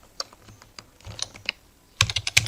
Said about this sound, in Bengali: তারপর আরেকটা ওয়ার্ড লিখি, লিখলাম যে ডলি